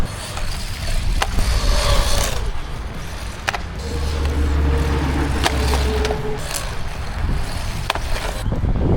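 An ARRMA Freedom Flyer Grom 4WD RC monster truck drives and jumps around a skate park, its small motor whining steadily with sharp clacks of wheels landing on concrete scattered throughout, fairly loud and close.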